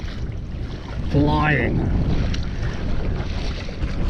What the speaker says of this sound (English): there's a breeze at my back